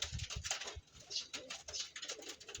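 Pigeons cooing close by in a loft, soft repeated low coos mixed with rustling and faint background bird chatter throughout.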